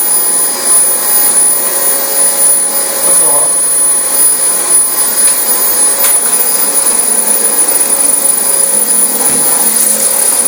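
A Dyson DC25 vacuum cleaner works over a filthy rental-property carpet with a loud, steady, high-pitched motor whine that stays close and constant throughout.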